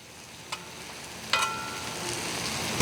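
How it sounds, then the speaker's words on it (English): Lemon slices and melting butter sizzle on a Blackstone griddle, a steady soft frying hiss with two brief sharper crackles, no talking. "while those lemon slices are cooking up, we're melting down our butter here."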